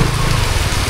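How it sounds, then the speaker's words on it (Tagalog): Heavy rain pours down steadily and loudly, a dense continuous wash with no talking, at the Coto Mines in Masinloc, Zambales. "So medyo malakas ng ulan."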